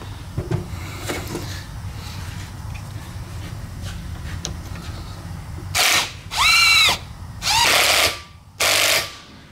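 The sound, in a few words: impact wrench tightening fork cap on Honda XR650R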